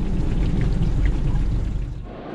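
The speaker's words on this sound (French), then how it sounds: "Enfin il pleut." A rain shower falling after a long dry spell on a road trip through Turkey near Ephesus: dense, steady hiss of pouring rain with a rumbling low undertone, fairly loud and close, tapering off at the end with no voices.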